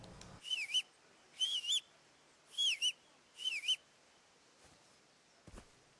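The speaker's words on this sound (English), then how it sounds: "I can whistle." A character in the video game Kingdom Come: Deliverance whistles four short warbling phrases in steady succession, clear and fairly close, with a few faint clicks and thumps in between and no speech.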